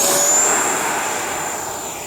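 An FMS BAE Hawk 80mm electric ducted-fan model jet whooshes past on a landing approach, its loud, steady high-pitched whine slowly fading and dropping in pitch.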